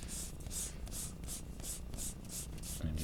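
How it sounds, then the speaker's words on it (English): A coiled eraser is lightly rubbed over a graphite drawing of a cat skeleton, giving a soft, close, rhythmic scrubbing of about nine quick back-and-forth strokes. "You can either just lightly rub over this, kind of made a coil out of the eraser"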